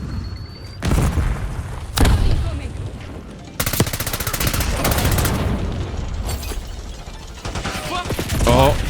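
A Semtex grenade blows up amid gunfire in a video game, with heavy booms and rattling bursts of shots that come and go over several seconds and keep the din loud throughout.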